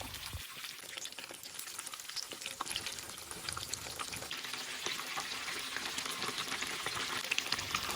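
Ham and cheese rolls fry in hot cooking oil over medium heat, giving a steady, close crackling sizzle with dense popping that runs the whole time.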